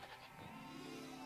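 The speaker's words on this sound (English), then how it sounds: "They have a lot of goats." A cartoon goat gives a single wavering bleat, a short nasal cry held for about a second, loud and close with no talk over it.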